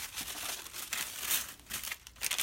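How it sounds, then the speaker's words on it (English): Clear tissue paper packaging is crinkled and handled close up, giving bursts of soft, papery rustling and crackling that rise and fall over a few seconds, with no voices. "it's packaged in this neat clear paper. It's tissue paper"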